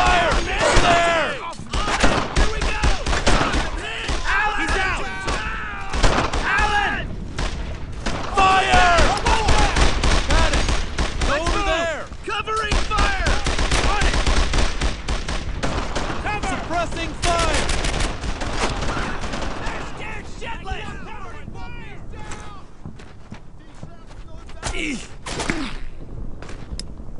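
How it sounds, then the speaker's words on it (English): Dense, continuous rattling gunfire and sharp cracks of a battlefield in the World War II video game Brothers in Arms: Earned in Blood, with occasional heavier thumps, shouted voices intermittently cutting through the barrage. "they're shooting at me!"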